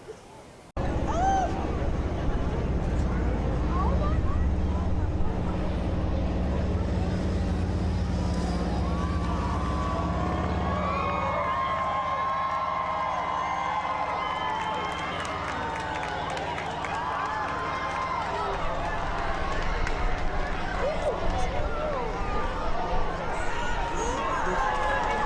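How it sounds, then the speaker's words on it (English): A rooftop crowd waits for a total solar eclipse, a steady broad murmur of many voices with scattered shouts and rising excited calls in the second half, under continuous wind-like noise. "just kind of listen to the crowd as they get ready for totality"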